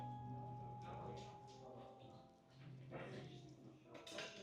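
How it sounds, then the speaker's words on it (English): A dog heard during a Christmas-themed yoga class: soft, short whimpers and a couple of yips over a steady, gentle background tone, faint and somewhat distant. "There's a dog."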